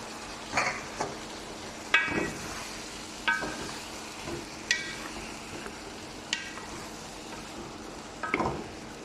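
Masala paste for chicken curry, cooked dry in a pan, sizzles steadily while a spoon scrapes and clacks through it in irregular strokes, close and moderately loud, with no talk.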